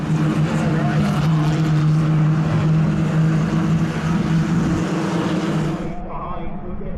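500cc racing cars howl around the Kirkistown circuit in a continuous, loud engine drone with a steady low hum, while a commentator talks over the action before the noise drops away near the end.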